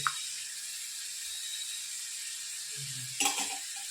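Fenugreek seeds sizzle steadily in hot oil on a home stove, a continuous close hiss with a brief clatter of stirring near the end.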